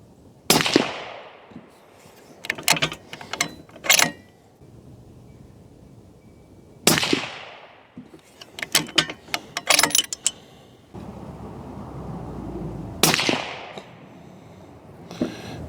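Three sharp, loud rifle shots are fired one at a time at a target group, each followed by a burst of metallic clatter as the rifle is reloaded by hand, with quiet gaps between.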